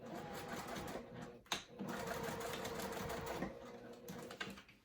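A sewing machine hums in a steady, rapid stitching run while sewing a zippered crossbody bag, broken by a brief clunk and a slight pause partway through.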